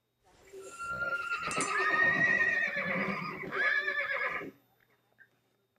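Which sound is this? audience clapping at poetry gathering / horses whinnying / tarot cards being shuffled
horses whinnying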